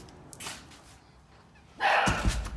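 A dog gives a couple of short yips and a louder bark near the end, loud and close after a quieter stretch of rustling.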